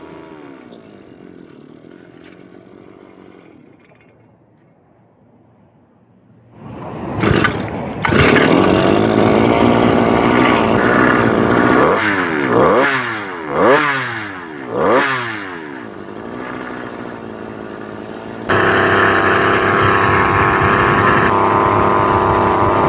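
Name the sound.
vintage-style 2-stroke motorized bicycle engine running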